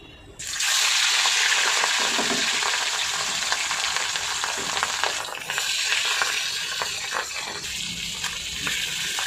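Fish frying in hot oil, a loud steady sizzle that starts abruptly and keeps up a dense crackling hiss throughout, with a brief dip midway.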